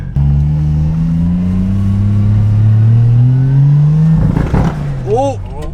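A car engine running under its own power revs loudly in one long, steadily rising pull, then drops off into crackling pops and rough idle.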